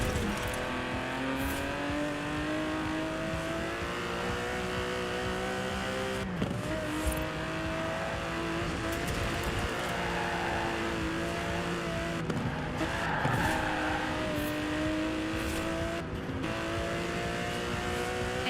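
Aston Martin DB11 with a 5.2-litre twin-turbo V12 in the Forza Horizon 4 racing game, a steady, strong engine drone with climbing revs and brief sharp shifts or tire chirps, heard alone and close.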